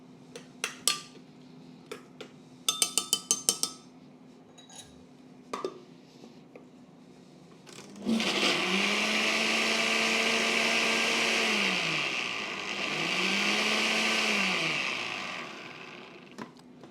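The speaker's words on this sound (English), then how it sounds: "And there's my kale blended up." Kale pureed in a blender, preceded by a few light clinks and taps of kitchenware, then the motor roars up loudly and steadily for several seconds, dips briefly and revs again, close by with no talking.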